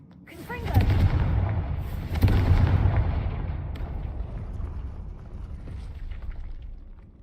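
Confringo blasting spell in Hogwarts Legacy, two heavy booming explosions about a second apart followed by a long rumbling decay and scattered crackles.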